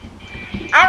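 Quacking bird call from a Minecraft-style morph game, a short bright burst of duck-like quacks at the end, heard over a low background murmur.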